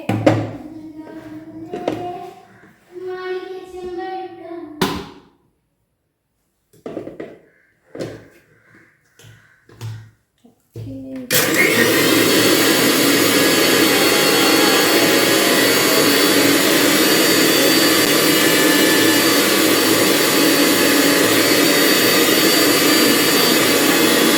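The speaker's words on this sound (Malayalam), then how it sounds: "അപ്പൊ നമുക്കൊന്ന് മിക്സിന് ജാറൊക്കെ കറക്കി എടുത്താലോ" A mixer grinder jar spinning while making juice: after several seconds of scattered clatter and quiet handling noises, a loud, steady whirring motor roar starts abruptly and runs continuously to the end.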